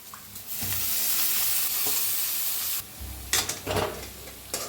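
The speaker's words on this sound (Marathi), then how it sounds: "तर मटकीची डाळ बी जरा भाजून घेऊया" Moth bean dal is roasted in hot oil and gives a loud, steady sizzle and hiss, then bursts of spatter and stirring scrapes near the end.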